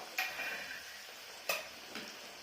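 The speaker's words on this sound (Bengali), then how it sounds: "এই যে ছোলাটা, ভাঙা ছোলাটা আমি এবারে করে নিচ্ছি, ভেজে নিচ্ছি" Broken chickpeas for chanachur frying gently over low heat give a faint, soft sizzle, punctuated by a few sharp clinks of a utensil against the pan.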